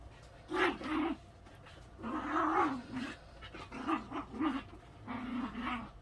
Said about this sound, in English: we got crazy puppies behind us